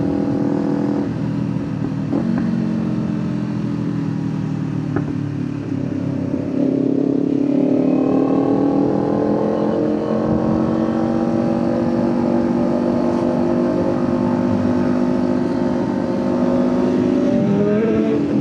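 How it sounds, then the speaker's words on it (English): A Kawasaki Ninja 500 motorcycle on a rainy road ride growls steadily through its exhaust, with the engine note rising and falling through gears and a few sharp crackles and pops, loud and close with road noise underneath. "I love the exhaust on this 500, man. Crackling and popping like it does."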